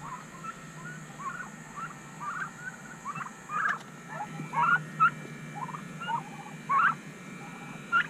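Scattered gobbling calls from several birds, faint to moderate, repeating irregularly over a steady outdoor background hum.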